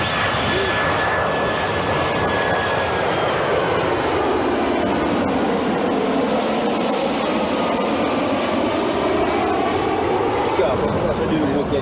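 A loud, continuous airplane engine roar as an aircraft flies past nearby during takeoff or landing at Rio de Janeiro International Airport, the pitch sweeping downward as it goes by.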